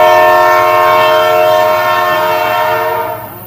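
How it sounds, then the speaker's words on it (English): A loud train whistle sounds one long sustained blast, close by, fading slightly at the end. "we heard a train whistle blow like it was right on top of us"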